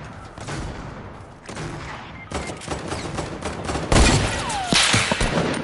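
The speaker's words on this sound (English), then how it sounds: "Hey, they shooting." Rapid bursts of enemy gunfire in a video game, sharp cracking shots in clusters that grow denser and louder toward the end, with no talking over them.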